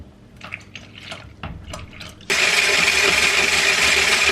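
Pudding mix is whisked with milk, starting with scattered clinks and liquid splashes before an electric mixer switches on and runs at a loud, steady whir.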